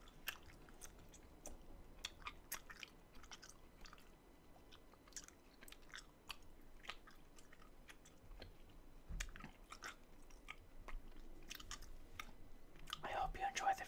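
Someone chews a big wad of five pieces of gum close to the mic, a quiet run of wet, squishy smacks in an irregular rhythm that grows a little louder toward the end.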